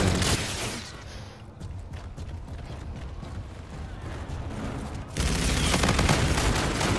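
Rapid gunfire in Call of Duty: Infinite Warfare, bursts of loud automatic shots that drop off briefly and then return in a heavy, dense volley near the end.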